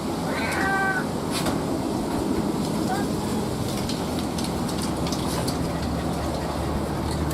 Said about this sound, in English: There's a cat right here.